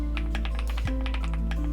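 Typing on a Story 65 mechanical keyboard fitted with its included foams, a quick run of close, crisp poppy keystrokes in an even rhythm, heard alone.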